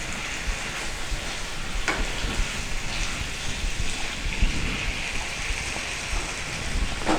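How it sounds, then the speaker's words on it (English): Chicken peri peri cooking in a covered frying pan, giving a steady soft sizzle and hiss throughout, with faint occasional pops and crackles. "Now I will cover the frying pan for some time so that it gets cooked well inside."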